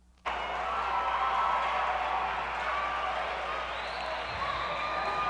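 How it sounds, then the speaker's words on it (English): A massive basketball crowd packs Fred Young Fieldhouse during a 1992 NCAA Division III men's tournament game, a steady, loud roar of voices and cheering that sustains throughout with no break. "Here you see part of this massive crowd at Fred Young Fieldhouse tonight"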